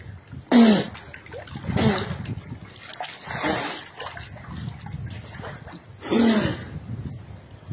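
Water splashes in bursts as a swimmer strokes through a deep temple pool, with three louder splashes spaced apart over a continuous wet churning and lapping.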